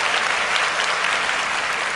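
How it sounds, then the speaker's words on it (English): An audience bursts into sustained applause at an interview event, thick and close clapping filling the whole moment with no speech over it. "So I want to give a big applause to XIT-ONLY."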